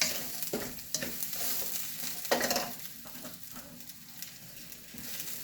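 Onions sautéing in a pan of seafood boil sauce, a steady close sizzle with stirring scrapes and small bursts, no voices.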